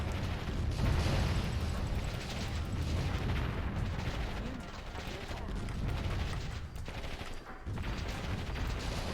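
Base defenses in the Warzone 2100 strategy game firing at attacking tanks, a dense continuous barrage of gunfire and explosions rumbling loudly throughout with brief dips.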